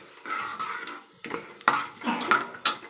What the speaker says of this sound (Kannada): ಇದು ಬಿರಿಯಾನಿ ಸಾಮಾನೆಲ್ಲ ಹುರ್ಕೋತಾ ಇದ್ದೀನಿ ಚೆನ್ನಾಗಿ